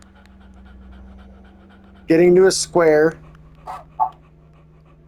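A dog in the puzzle game Humanity pants in two quick bursts of breath, close and loud, followed by a couple of faint clicks over a low background hum, with someone talking before it.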